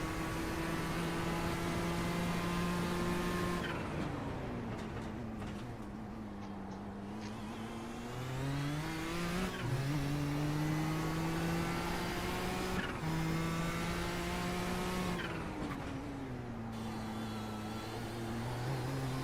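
Historic race car engine heard from the cockpit while lapping Sebring, a loud continuous drone whose pitch climbs and drops repeatedly through gear changes and corners.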